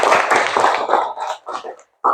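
A classroom of students clapping for a classmate, a burst of several quick irregular claps that thins out and stops, then a short final clap, fairly close and without talk.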